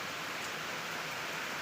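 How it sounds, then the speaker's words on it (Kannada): Steady rain falling outdoors during an ongoing shower, heard as an even, close hiss with no breaks and no voices. "ಇನ್ನೂ ಮಳೆ ಬರೋದು ನಿಂತಿಲ್ಲ."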